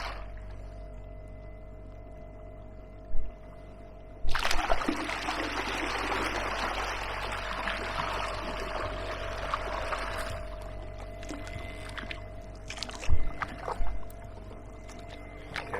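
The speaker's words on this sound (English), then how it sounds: "It's actually difficult though to actually steer it paddling." An AquaTec Ottawa Pro kayak fitted with a Hiqmar EP18Li E-Fin moves through shallow water, with a few close paddle splashes and a longer stretch of rushing, trickling water over a quiet electric hum.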